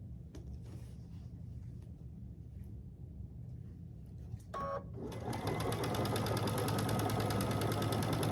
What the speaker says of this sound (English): it's just as easy to just keep sewing it down